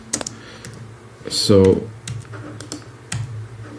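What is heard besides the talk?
computer keyboard typing, used for musical typing in a music program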